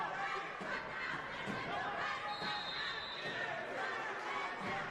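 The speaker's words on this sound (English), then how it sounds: "You can hear the crowd now letting them know how much time's left" A wrestling match crowd calls out and murmurs as time runs down, a dense mid-level roar of voices with shouts rising through it, heard at a distance under a commentator's talk.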